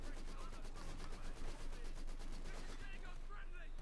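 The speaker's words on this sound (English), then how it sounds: "this machine gun is great" Machine gun fire in Company of Heroes 2, a steady rapid rattle of shots running continuously at moderate distance with a voice speaking over it.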